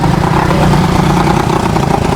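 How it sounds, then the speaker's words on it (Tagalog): A loud, steady motorcycle engine idles close by at a fish vendor's stop at a police checkpoint, its low rumble continuous and even throughout with no talk over it. "Ang ingay ng motor ko."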